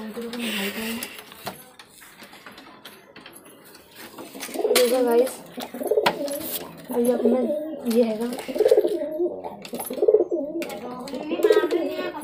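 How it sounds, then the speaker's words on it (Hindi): Pigeons in a coop coo repeatedly at close range, with soft rhythmic throaty calls that come in regular pulses during the second half, after some quieter rustling and clicks. "आज मैं दिखाने वाला हूँ मेरे कबूतर के जोड़े, उनकी सारी नस्लें"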